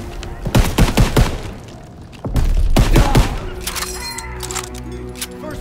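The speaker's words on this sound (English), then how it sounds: "MGs are still sweeping the beach!" Machine guns rake a beachfront battle in a realistic war video game, sounding as rapid bursts of gunfire with sharp cracks that run in dense repeating volleys, loud and close, then give way to layered distant shooting and rumble.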